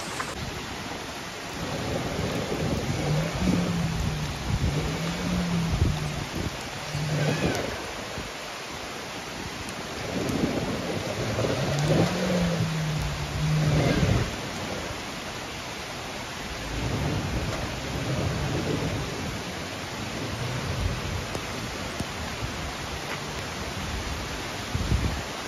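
Heavy, steady rain pours down in Walong, Arunachal Pradesh, with several low rolls of thunder rising and fading through the downpour.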